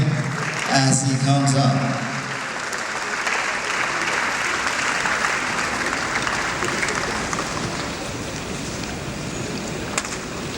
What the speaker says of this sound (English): We can keep clapping